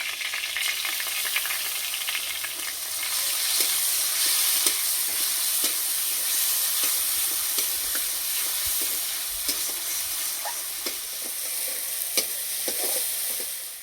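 Ground spice paste frying in a pan with chopped tomato and green chilli for a vegetarian aubergine dish, giving a steady close sizzle with scattered crackles and the scrape of stirring throughout, no talking.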